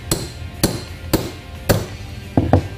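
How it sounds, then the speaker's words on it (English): Sharp metallic hammer taps ring out one by one at a slow, steady pace as a sleeve is driven into a sway bar end link bushing on a Ford F-150, ending with a quicker pair of blows, close and clear. "Place the sleeve into the center of the bushing and tap it home with a hammer."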